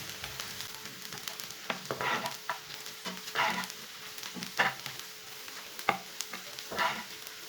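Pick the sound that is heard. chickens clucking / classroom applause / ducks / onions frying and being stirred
onions frying and being stirred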